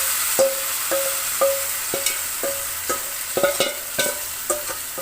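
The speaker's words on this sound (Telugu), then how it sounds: "ఈ చికెన్ వేసుకున్నాక కొంచెం సేపు నూనెలో మగ్గనియాలన్నమాట" Chicken frying in oil for cashew chicken curry: a steady background sizzle broken by regular spatula taps and scrapes against the pan, close and moderately loud, with no voices.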